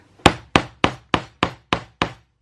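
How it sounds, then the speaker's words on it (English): Seven evenly spaced wooden taps of a wooden hammer striking a stamp into soap, sharp and close, each a short knock that quickly fades, in a steady rhythm. "And we just take a wooden hammer and give it a tap."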